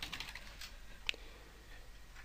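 Several quiet keystrokes on a computer keyboard, a quick cluster of taps at the start and a single sharper click midway, faint in a hushed room.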